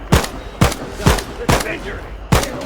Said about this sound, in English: my opening barrage of shots did not have the effect that I would have hoped